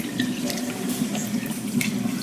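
Water drains steadily from a sink after washing collard greens, a close, continuous gurgling rush with light splashes and no talking.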